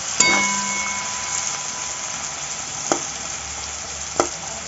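Paneer fried in oil in a pan hisses steadily at close range, with a utensil clink at the start and two sharp scrapes or taps later on.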